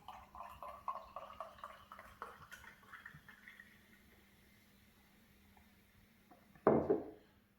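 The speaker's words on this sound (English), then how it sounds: "Bottle, glass, pouring." Mangrove Jacks Raspberry and Lime cider pours from a bottle into a glass. After a stretch of faint clinking and quiet room tone, a short, close gurgling splash surges up and then tapers off.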